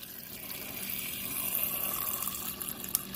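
A steady stream of water pours from a Maytag French door fridge dispenser and hisses continuously at close range, with no talking.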